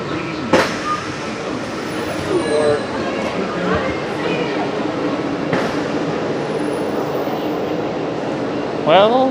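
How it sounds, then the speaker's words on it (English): A Disney monorail train runs toward the Magic Kingdom, a steady rolling rumble with whining motor tones and occasional brief squeals, heard from on board amid background voices. "Let's head on to the monorail to head to the Magic Kingdom."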